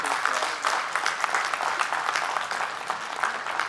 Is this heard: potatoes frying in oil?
no